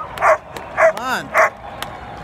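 Several sharp dog barks and yips in a row, close by, mixed with excited human shouting at a White Sox baseball game.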